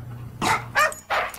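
Several dogs at a doggy daycare give three short bursts of barking and yipping, loud and close, with brief pauses between them.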